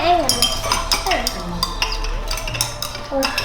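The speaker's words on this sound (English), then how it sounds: "we're gonna mix it" Stirring a potassium iodide mixture for a Halloween pumpkin experiment: a utensil clinks and scrapes against a container in quick irregular taps, close and fairly loud, with children and an adult talking over it.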